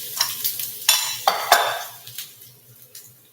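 Onions dropped into hot, popping oil, with a burst of sizzling and clattering pan and utensil sounds that fades over a few seconds. No talking.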